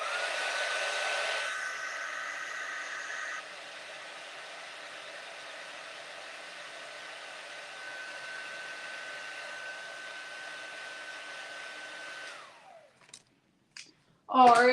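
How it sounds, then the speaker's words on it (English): A heat gun dries ink on a craft project with a steady, soft blowing hiss. It runs for about twelve seconds, then cuts off, and a few brief handling clicks and a short voice follow. "I want to hit this real quick with my heat gun just to like doubly make sure that that ink is dry."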